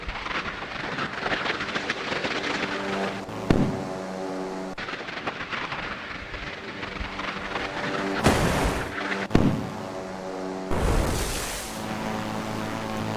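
Missiles launched from a warship in the naval game Sea Power, several loud whooshing launch roars and booms at intervals over a steady droning ship engine hum.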